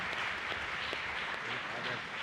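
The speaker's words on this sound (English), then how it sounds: "round of applause for them" At a school principal's reception, an audience claps and cheers in a dense, even wash of applause that holds steady throughout, with voices mixed in.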